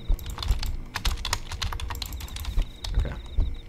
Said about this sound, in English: I'm just spam clicking everything